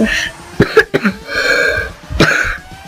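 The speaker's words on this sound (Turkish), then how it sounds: "Daha demin de öksürdüm" Several harsh coughs, close and loud: a few quick bursts early, then a longer throaty cough near the end.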